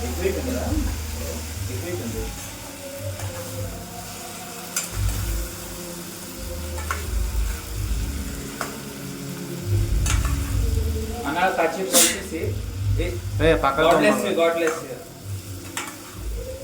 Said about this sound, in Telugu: లైట్గా ఇలా కాసేపు కలుపుకోవాలి ఫ్రెండ్స్